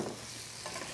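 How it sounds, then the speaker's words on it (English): Beef sizzling in a hot pan while zucchini is added for a saute, a steady close frying hiss with a brief stirring clatter, no voices. "Now that this is sizzling up nicely and the aromas are coming out"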